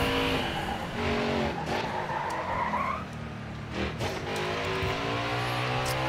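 A truck's locked tires screech and skid loudly into a corner at Mid-Ohio in Nascar Heat 5. The squeal slides up in pitch over a continuous engine drone, then eases off as the truck rolls through.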